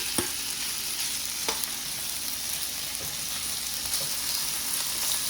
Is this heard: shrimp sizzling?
yes